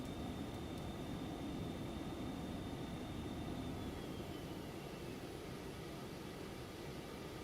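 Steady jet engine roar of a Phenom 300 business jet in the X-Plane 11 flight simulator, a continuous broadband whoosh with a faint high whine, heard alone without talk.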